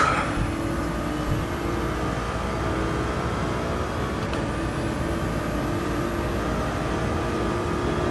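A Ford race car engine roars steadily as it accelerates, a loud continuous drone with strong low rumble and a thin high whine running throughout, no voices over it.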